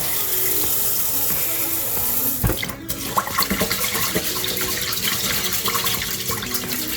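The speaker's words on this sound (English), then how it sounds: "So we rinse, and you want to rinse until the water runs fairly clear." Rice being rinsed by hand in cloudy water at a kitchen sink, a steady running-tap wash with swishing and splashing that grows busier after a brief louder slosh, close and alone.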